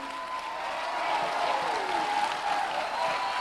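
A church congregation at a San Jose revival service claps in a steady, sustained wash, with crowd noise and faint voices or tones drifting through the applause.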